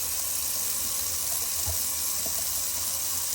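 Cold tap water pours continuously into a bathroom sink after a shave, an even rushing hiss nearby with occasional splashes of hands in the stream and no talk.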